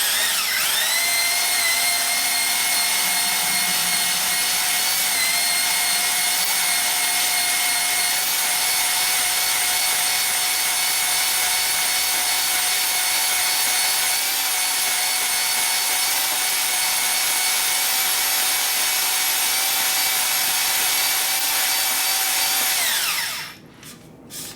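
Cylinder hone spinning inside the bores of a 5.7L LS engine block, a steady high-pitched whine with bright overtones that holds evenly for over twenty seconds before cutting off near the end.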